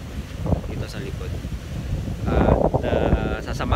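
Wind blows hard outdoors around a sports academy entrance, buffeting the microphone with a steady low rumble that grows stronger in the second half, while a person talks over it.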